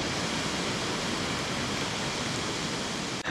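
Steady rain falls at the foggy Kumbhe waterfall viewpoint in Maharashtra, a continuous, even broadband rush with no breaks or other sounds.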